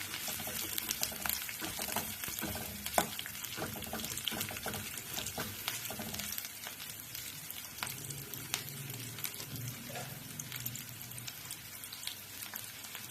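Onions and curry leaves sautéing in oil in a home kitchen, with a steady, moderate sizzle broken by a few clinks and scrapes of stirring, and no talk.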